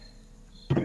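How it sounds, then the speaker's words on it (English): Crickets chirping, a steady thin high-pitched trill held faint in the background, cut off near the end by a louder thump. "Are those your crickets there, Flatzoid?"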